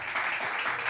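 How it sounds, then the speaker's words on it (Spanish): Concert audience applauding a bass player being introduced on stage at an Asturian music show, a brief, steady wash of clapping from the crowd with no voices. "Un aplauso, por favor."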